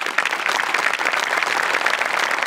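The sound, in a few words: audience applause after a comedy act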